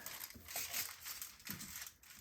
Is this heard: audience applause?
no